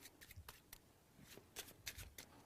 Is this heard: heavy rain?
no